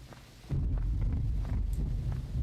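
Rain and thunder ambience in the surreal horror game Timore Narhelma swells into a low, steady rumble of rain with dull thunder beneath it, continuous and fairly loud after a quieter start.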